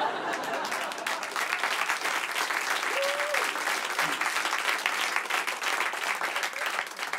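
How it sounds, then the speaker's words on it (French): A theater audience claps in a dense, steady burst of applause that carries the whole stretch at even loudness, with a brief vocal sound rising above it. "Vous applaudissez"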